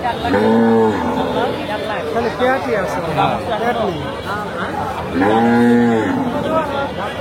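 A large native deshi cow at a crowded Korbani cattle market lets out two long, loud moos close by, with constant crowd chatter and nearby talk underneath.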